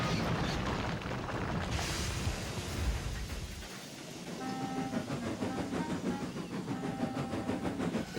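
An animated steam engine puffing along a track, rhythmic chuffing and clatter that settles into a steady pulsing beat with faint tonal whistle-like lines, heard without speech.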